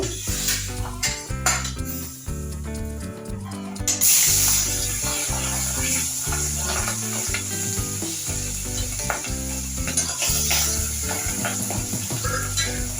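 Chela fish pieces fry in a pan with a bright sizzle under steady background music, a sharp burst of spitting oil near the middle and faint clinks of utensils.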